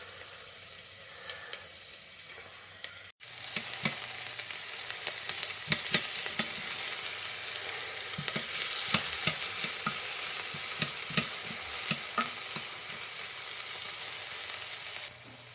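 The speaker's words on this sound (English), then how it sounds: "So put a little fat in the pan and I start sauteing these up." Food sautéing in fat in a pan, a steady close sizzle with scattered crackles and pops and occasional stirring scrapes, no one talking.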